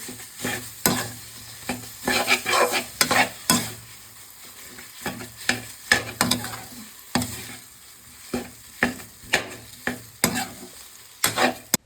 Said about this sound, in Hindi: अब इसको मैं हल्की बिल्कुल मंदी गैस पे रोस्ट कर लेती हूँ दोनों को।